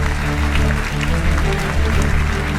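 A church congregation applauds together during a worship service, a dense, steady wash of clapping that stays loud and close throughout with no pauses.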